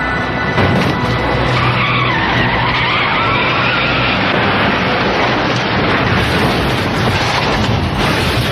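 A car skids at high speed on a roadway at night, a loud continuous tire-and-wind roar filling the whole stretch with rising squeal, with no clear separate impact standing out.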